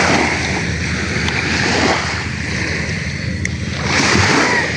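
Calm sea waves wash onto a beach in a steady, close roar of surf, rising and easing gently with light wind noise on the microphone and no talking.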